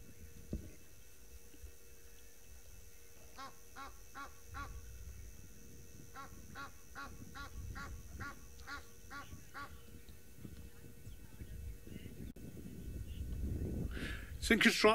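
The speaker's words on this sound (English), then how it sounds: "the Egyptian geese have the best calls, because if you listen to it, it's a bit musical." Egyptian geese calling on a safari in the wild, a run of rhythmic honking notes repeated in short bursts at a distance over steady outdoor ambience and low voices.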